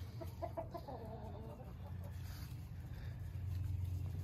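Soft clucking from hens close by, a few short bursts early on over a steady low rumble, with no other voices.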